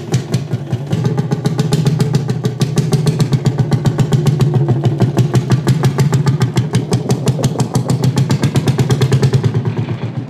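Historic Lanz tractor engine running steadily after being started, a loud close rhythmic thumping beat of a slow single-cylinder engine that keeps an even pulse throughout with no talk.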